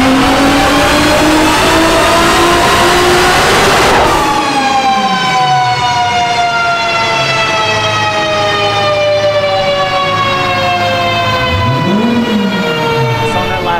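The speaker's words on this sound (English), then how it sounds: "You might have heard in that pull was a little bit of ignition breakup" A stock Toyota 2JZ engine screams through a dyno pull, its loud revving pitch climbing steadily before a sharp drop, with brief stuttering ignition breakup and a later rev blip as it winds down; no talking.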